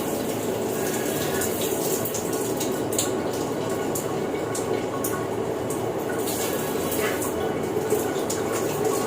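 Running water pours steadily from a tap, a broad hiss that holds fairly level throughout with a few brief splashy bursts, and a faint voice sits underneath.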